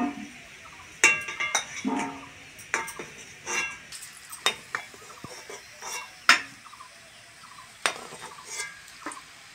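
Fried potatoes for aloo dum being lifted from hot oil in a pan, with repeated metal clinks and scrapes of a utensil against the pan over a soft sizzle, nearby and moderately loud.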